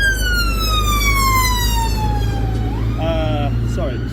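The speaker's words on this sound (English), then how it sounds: "Wait for the sirens." A UK police siren wails steadily with a falling pitch sweep, then switches to a faster yelp pattern as the vehicle passes, all over loud continuous road and engine rumble.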